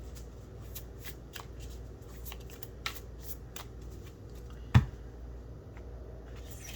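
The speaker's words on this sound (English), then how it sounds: "One more shuffle here." A deck of oracle cards being shuffled by hand gives a run of quick, dry riffling flicks and soft slaps, close and fairly quiet, with one sharper tap near the end and no talking.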